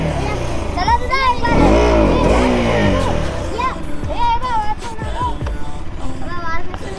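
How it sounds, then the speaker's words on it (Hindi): A car rolls slowly through a village, its engine note swelling and then easing off, while children chatter and shout around it. "आराम से गाड़ी आ रही है"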